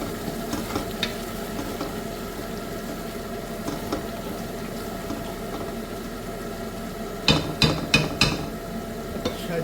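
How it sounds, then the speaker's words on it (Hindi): A spoon stirs tomato masala in a pot over a constant bubbling sizzle, and a quick run of sharp scraping strokes against the pot comes near the end. "भी हम इसको चमचा मारेंगे तो ये सारा मसाला जो है एक जैसा मिक्स हो जाएगा बेहतरीन।"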